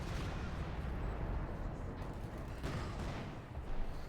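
Heavy artillery fire in Company of Heroes 2 rumbles as a dense, low barrage of booming impacts and blasts, continuous and fairly loud with overlapping explosions.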